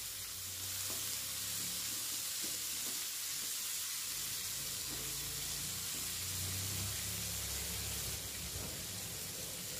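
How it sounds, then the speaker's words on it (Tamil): A single ripe tomato sizzles and fries steadily in a hot pan, with occasional stirring scrapes over a constant frying hiss. "நம்ம பழுத்த தக்காளி 1 மட்டும் போட்டு நம்ம வதக்கி எடுத்துக்கலாம்"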